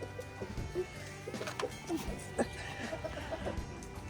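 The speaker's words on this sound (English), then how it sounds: "Try to pet one of the chickens." Chickens cluck and murmur softly inside a coop, with scattered short calls and coos over a low, steady background, moderately distant and fairly quiet.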